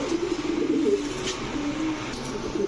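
Soft, repeated cooing from Saharanpuri Kaldam pigeons, a hen among them, rolling in low throaty pulses close by with a faint background hum and no talking.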